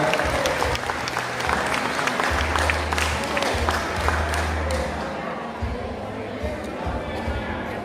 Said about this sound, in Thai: ขอเสียงปรบมือดังๆ ให้กับผู้สาวหนยครับ